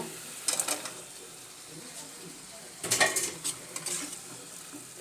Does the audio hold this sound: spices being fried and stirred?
yes